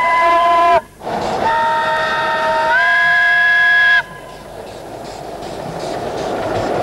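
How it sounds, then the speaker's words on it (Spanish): A narrow-gauge steam locomotive hauling tourist cars on an island railway sounds a loud, shrill whistle in two long blasts, the second rising in pitch, over the steady chuffing and clatter of the moving train. "Así recordaba Ricardo Rojas aquel tren con locomotora a vapor"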